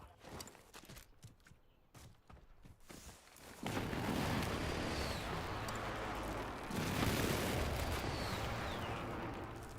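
Enemy precision airstrike in Call of Duty Warzone on Verdansk: after a few seconds of footsteps and scattered clatter, a heavy explosion erupts into a sustained rumbling roar, followed by a second blast swelling the noise again.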